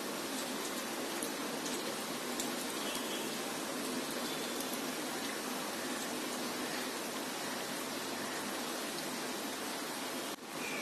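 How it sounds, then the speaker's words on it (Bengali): Snacks of bread deep-frying in hot oil in a pan, a steady dense bubbling sizzle that holds evenly throughout, close and fairly quiet with no talk. "এখন এগুলি আমি তেলে ভেজে নেব।"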